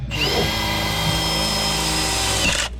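A power drill whines steadily at close range for nearly three seconds, its motor pitch holding even as it bores, then cuts off.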